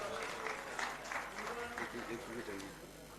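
Brief scattered clapping from the audience at a live Punjabi mushaira poetry gathering, fairly quiet and uneven, mixed with voices talking over it.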